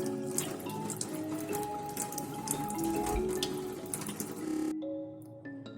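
Tap water runs into a sink while carrots are washed one by one, a continuous splashing flow with irregular knocks and rubbing of the vegetables, fairly close. The water cuts off near the end, leaving a faint drip and hum.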